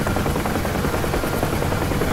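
A UH-1H helicopter flies low over tree-covered Nevada terrain in the combat flight simulator DCS World, its rotor giving a loud, steady, rapid thumping chop throughout.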